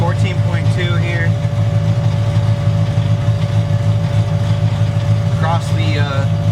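A turbocharged Ford Foxbody Mustang engine idles steadily and loudly throughout, a constant low rumble with a whining tone, while a person talks over it.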